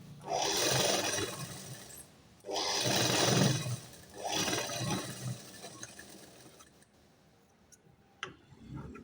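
A sewing machine stitching a facing strip to the back panel of a blouse runs in three long close bursts of steady whirring, each broken by short pauses, then fades to quiet with a few light clicks.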